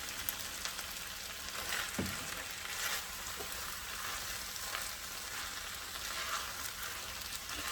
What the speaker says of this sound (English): stir it all in. You want to get it so that you've got that brown tinge on the rice